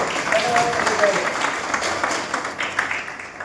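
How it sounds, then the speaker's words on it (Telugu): Loud applause from a training-programme audience at the National Academy of Construction, welcoming a woman guest; a dense, steady patter of clapping with voices mixed in throughout. "మేడం గారికి ఒకసారి గట్టిగా క్లాప్స్ కొట్టి"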